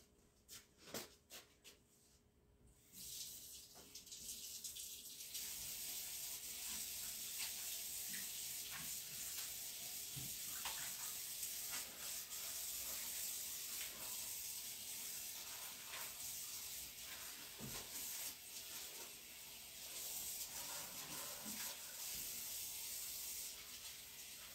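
Water runs steadily from a tap while a decorating stencil is washed in a sink, a continuous hissing spray that starts after a few faint knocks and keeps going, close and alone.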